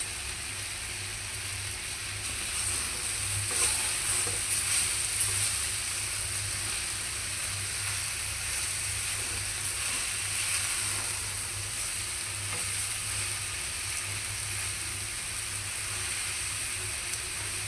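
Chopped ash gourd bhaji fries in a hot pan with a steady, close sizzle and hiss, occasional stirring scrapes rising briefly, and no voices.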